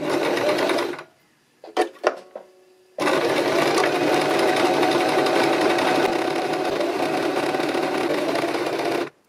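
A sewing machine stitches a fabric scrunchie in loud, steady runs: a short burst, a pause with a few clicks, then a long continuous run.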